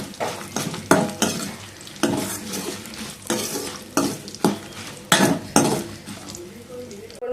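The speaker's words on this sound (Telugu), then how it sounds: "ఇప్పుడు ఇవన్నిటిని మనం మంచిగా ఫ్రై చేసేసుకుందాం" Curry leaves and spices fry in a pan for a gongura pickle, with a steady sizzle broken by repeated metal stirring scrapes and clinks from a spoon against the pan, close and loud.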